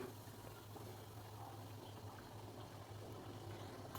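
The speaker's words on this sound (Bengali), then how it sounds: "ভাতটা ফুটে গেছে দেখো ভাতটা ফুটে গেছে" Rice boiling in a pot, a faint steady bubbling simmer with a low hum underneath, continuous and unbroken.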